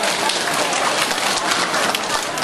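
Loud, dense applause from volunteers at a food bank charity event, continuous clapping filling the room without pause.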